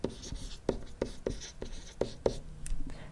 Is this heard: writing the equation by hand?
yes